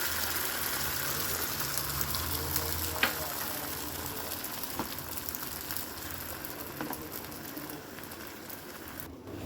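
Steady frying sizzle of an omelette on a pan, with a few faint clinks and no talking.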